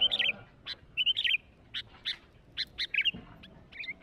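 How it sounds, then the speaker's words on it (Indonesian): Birds chirping in a rural Indonesian village, several short bright chirps and calls in irregular bursts, fairly close, over quiet background with no talk. "Ada burung di situ"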